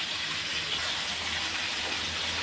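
Fish masala fries in hot oil in a pan, giving a continuous loud, even sizzle and hiss with no pauses and no talking.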